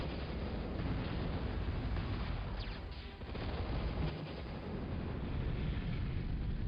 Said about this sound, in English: Look at all those missiles!